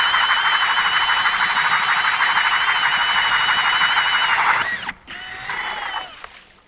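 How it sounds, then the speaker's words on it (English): A power drill boring holes in lake ice whines loudly and steadily for several seconds, then winds down, stops briefly, and spins up again more quietly before fading. "we're gonna head out on the ice and drill some holes"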